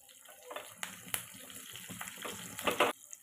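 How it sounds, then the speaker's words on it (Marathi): Half a glass of water is poured into a hot dhokla tempering of slit green chillies and curry leaves, giving a short, uneven splashing gush with brief sizzling bursts that peak near the end. "नंतर याच्यामध्ये मी अर्धा ग्लास पाणी घालून घेणार आहे."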